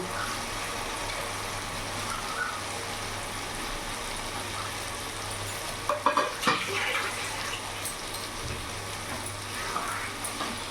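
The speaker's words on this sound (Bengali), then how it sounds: "এবার কেটে ধুয়ে রাখা লোটে মাছগুলো আমি পুরোটা দিয়ে দেবো।" Loitta (Bombay duck) fish pieces frying in a thick spice masala in a pan, giving a continuous close sizzle with a short burst of clattering stirs partway through.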